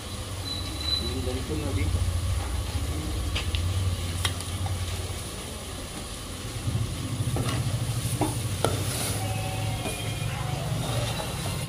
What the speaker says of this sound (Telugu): ఆయిల్ మరిగాక పచ్చిమిర్చి వేసారు